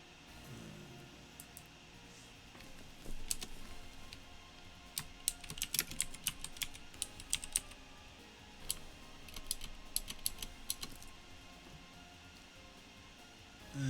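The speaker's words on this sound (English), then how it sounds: "Typing and talking." Quiet, irregular typing on a computer keyboard, with bursts of sharp clicking keystrokes that speed up and slow down and a few pauses, heard close and alone.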